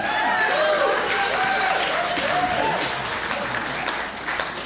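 A church congregation claps and applauds together, a steady dense wash of many hands held at an even level, with a voice briefly rising above it.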